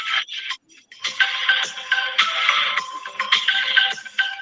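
A phone ringtone cutting into an online group call: repeated bright electronic ringing bursts with brief gaps, fairly loud and clear, sounding alone with no talk over it.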